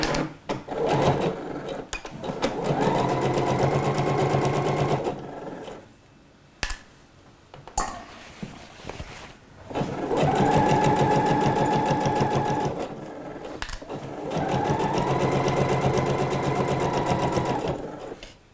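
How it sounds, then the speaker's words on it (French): A domestic sewing machine stitches trouser fabric in three long runs of fast rhythmic whirring, each stopping and starting, with brief quiet gaps and small clicks between the runs. "Je passe sous ma machine à coudre et je vais piquer à 1 cm"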